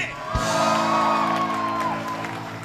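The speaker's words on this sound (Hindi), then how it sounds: "तालियां।" A studio audience at a televised game show in Pakistan bursts into cheering and whooping, a loud crowd roar that swells and then holds.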